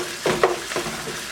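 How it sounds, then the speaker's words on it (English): Ground beef frying in its fat with ginger and garlic, stirred with a utensil: a soft steady sizzle broken by a few scraping stirs, close and fairly quiet. "let's go ahead and get that mixed in there and let this incorporate into the fat and the meat"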